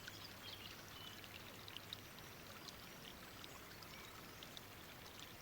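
A large woodland stream flows steadily, a soft continuous wash of running water with faint trickles and splashes over stones, heard at low level with no voices.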